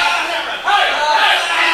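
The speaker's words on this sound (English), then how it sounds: "This crowd is fully behind JP Hanson right now." A dense crowd at a live pro wrestling show during a tag team title match roars and yells steadily and loudly throughout, a continuous wall of cheering with no break.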